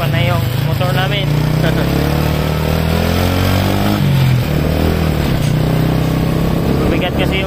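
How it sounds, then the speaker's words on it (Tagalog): A motorcycle engine strains under a heavy load while carrying a heavy rider, giving a loud, continuous, close drone whose pitch dips and rises as it labours. "Hirapan na yung motor namin."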